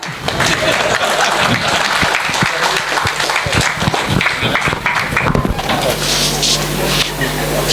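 Audience applause at a silver jubilee celebration, a dense continuous clatter of many hands sustained for several seconds, with voices mixed in and a steady hum beneath toward the end.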